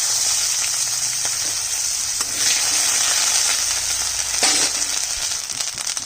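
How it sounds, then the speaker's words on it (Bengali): Onion paste and tomato go into hot oil tempered with dry chilli, cumin, cinnamon and cloves for a light fish curry, giving a continuous close, bright frying sizzle with occasional louder spits and no talking. "ফোড়নে দিলাম এবার দিয়ে দিচ্ছি পেঁয়াজ বাটাটা দিয়ে দিচ্ছি টমেটোটা"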